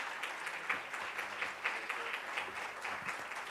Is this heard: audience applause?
yes